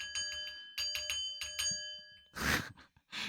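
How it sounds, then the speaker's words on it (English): A small bell rings several times in quick bright strikes with ringing overtones, followed by breathy exhaled sighs from a nearby person. "Let me ring that fucking bell."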